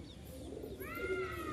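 A pigeon among birds offered at a sale of racing pigeons gives a short, moderately close coo over a low background murmur.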